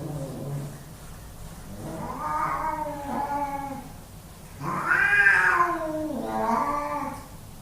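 A cat yowls in a long, drawn-out series of wavering meows and caterwauls, loud and close, rising to a sharper cry midway, with no voices.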